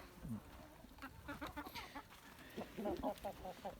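Amrox chickens, a barred meat-and-egg breed, clucking in a yard in short repeated bursts of soft throaty calls, several close birds with a louder cluster near the end and no talk.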